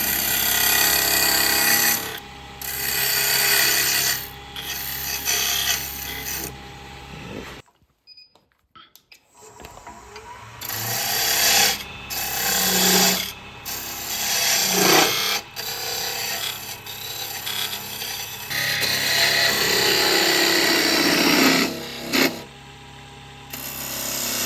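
A parting tool cutting a groove into spinning wood on a lathe for a peppermill, a loud sustained grinding whir that briefly drops to near silence midway before resuming with fluctuating intensity.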